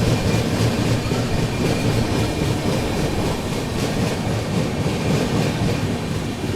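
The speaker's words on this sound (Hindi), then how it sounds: "काफ़ी धीमी रफ्तार में ओवरटेक कर रहे हैं हम लोग आज यार" Heard from on board, the Seemanchal Express slowly overtakes the Tata Nagar Jammu Tawi Express on a third line. A loud, steady rolling rumble carries a rhythmic clickety-clack of wheels over rail joints.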